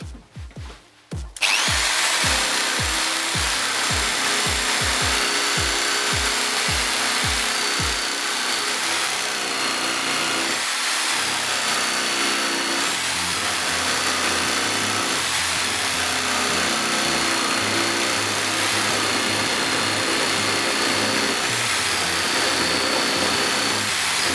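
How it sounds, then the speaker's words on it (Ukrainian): A power saw grinds continuously and loudly through a 40 mm wooden board, preceded by a quick series of rhythmic low thumps at the start, with the cut's pitch wavering as it bogs down. "Ну не хоче нахер даже різати доску сороківку"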